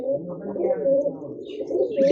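Pigeons coo steadily on a rooftop in rural Punjab, low rounded calls repeating close by and fairly loud, with a few faint chirps from other birds.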